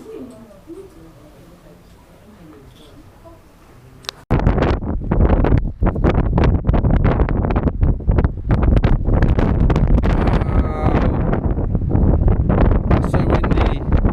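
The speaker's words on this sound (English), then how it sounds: "That's so windy." Strong wind at Tintagel Castle roars and buffets the microphone in a loud, steady rush after a few quieter seconds of faint ambient sound.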